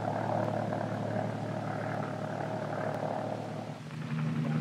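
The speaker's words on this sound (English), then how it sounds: "Bell's latest utility helicopter, designed for the Army, the XH-40, also uses the Lycoming turbine engine." Bell XH-40 Army utility helicopter with a Lycoming turbine engine, a steady droning rotor and turbine roar with a dip near the end before swelling back, heard alone.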